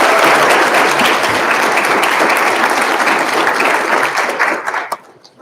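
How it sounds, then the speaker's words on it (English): An audience at a Federalist Society law event breaks into loud, dense applause for several seconds, then quickly dies away to silence. "Please join me in giving them a round of applause."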